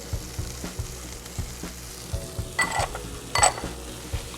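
Diced cooked ham frying and browning in a pan: a low, steady sizzle with soft rhythmic stirring knocks, and two brighter bursts of spitting hiss near the end, close and unaccompanied by speech.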